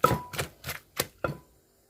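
Grilled young green chili peppers, with shallots and garlic, being pounded in a mortar: five sharp, evenly spaced thuds, close and clear, then quiet.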